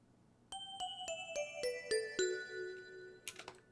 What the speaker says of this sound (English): And this is the classic Purity Vibra hand bell.